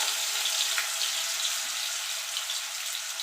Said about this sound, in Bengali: দেখুন বন্ধুরা, তেলটা গরম হয়ে গেছে, এবার আলুগুলো আমি ছেড়ে দেবো।